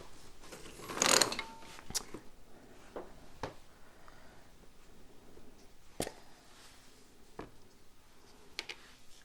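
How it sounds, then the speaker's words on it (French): Screws on the rear brake caliper of a Yamaha FJR 1300 motorcycle being tightened to torque, with scattered small metallic clicks and ratcheting ticks from the tool, close and quiet, plus a brief rustle early on. "replacer mes vis, et puis serrer tout ça au couple"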